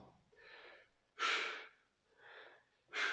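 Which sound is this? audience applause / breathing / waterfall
breathing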